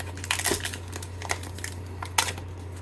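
Plastic film peeled off a new Samsung Z Flip 5 phone in several crinkly, crackling tugs, close and fairly quiet, with scattered sharper rips.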